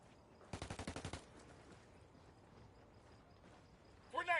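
Automatic weapon bursts in a tactical online shooter, a rapid run of about eight sharp shots fired in quick rhythm, followed by quieter background noise and a brief burst of other game effects at the end.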